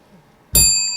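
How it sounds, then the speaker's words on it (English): A single bell rung once, a sharp metallic strike with a long ringing tone that rises abruptly from near silence and sustains to the end. "we're going to ask our newcomer to ring her first bell"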